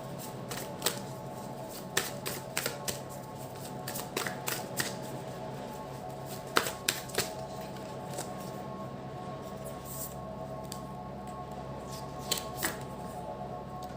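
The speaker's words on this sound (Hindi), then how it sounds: "पहले मैं कार्ड्स निकाल लेती हूँ" Tarot cards drawn one by one from a deck during a reading, giving soft, quiet card snaps and flicks at irregular intervals over a steady low room hum, with no talking.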